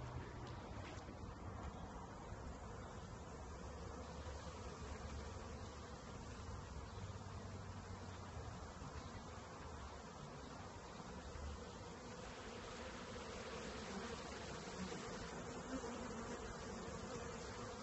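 Bees buzzing around a Poly Hive beehive, a continuous low hum of many insects with faint outdoor background, steady throughout and no talking.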